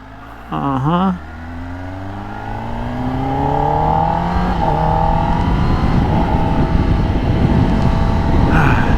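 A new motorcycle being ridden: a short rev at the start, then engine tone climbing steadily through the gears as wind and road roar build up close and loud, with a second brief rev near the end.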